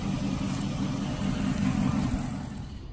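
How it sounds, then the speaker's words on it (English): A 5.7 HEMI V8 truck engine idles with a steady low rumble, close and continuous, without much change in pitch throughout. "it is idling a lot smoother"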